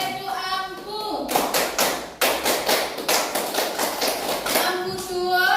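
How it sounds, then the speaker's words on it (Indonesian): A class of children claps for a presenting group in a classroom, a burst of lively hand clapping lasting a few seconds between stretches of a teacher's voice. "beri tepuk tangan dulu untuk kelompok 1"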